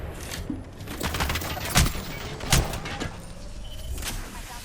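Gunfire in the battle royale video game Apex Legends, with repeated shots and a few louder sharp bursts over a busy, continuous bed of game noise.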